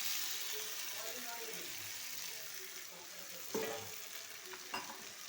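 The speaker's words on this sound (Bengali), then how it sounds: "এবার দিয়ে দেব ভেজে রাখা ডিমগুলো।" Fried eggs stirred into a potato curry in a pan, a soft steady sizzle with a few sharp spatula knocks and scrapes, faint and close with a low hum beneath.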